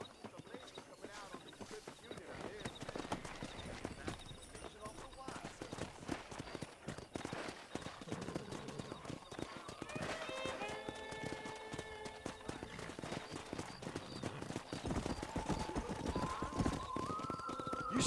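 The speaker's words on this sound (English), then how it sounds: "there's a pack of wild horses nearby" Wild horse hooves clop rapidly in a galloping rhythm amid a busy mix of sound in Red Dead Redemption, with horses whinnying toward the end and voices talking underneath.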